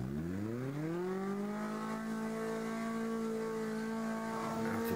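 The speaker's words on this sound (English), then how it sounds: "Lots more revs now." A car engine at a sporting trial revs up and holds a high, steady drone, its pitch rising early then sustained, loud and close throughout.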